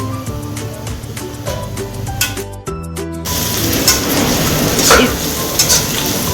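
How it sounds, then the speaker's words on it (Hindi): Ginger and garlic go into a hot pan of onions for chicken biryani, with close-up sizzling and spoon clatter followed by a louder, denser frying hiss. "मैं डाल रही हूँ अदरक और लहसुन"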